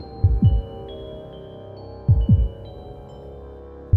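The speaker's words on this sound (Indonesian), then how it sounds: "Detak jantung semesta terus terdengar seperti hentakan palu raksasa" A heartbeat sound effect thumps deep and loud in paired lub-dub beats, two pairs about two seconds apart and a third beginning at the end, over a low sustained hum.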